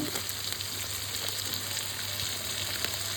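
Vegetarian potatoes coated in red and Kashmiri chilli powder stirred and frying in a pan, giving a continuous dense sizzle with a steady hiss throughout and no voices.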